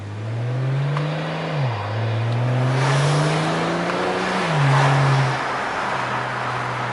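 A BMW E92 engine pulls hard under turbo boost, a loud, close droning note that climbs steadily through the gears, dipping briefly at each shift before rising again.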